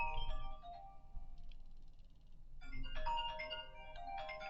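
A mobile phone ringtone plays in repeated melodic bursts, with a short pause partway through, fairly close and alone with no talk over it.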